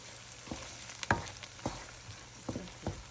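Crab stir-frying with chili in a pan, a steady close sizzle broken by several sharp clattering stirs and scrapes at irregular intervals, with no voices.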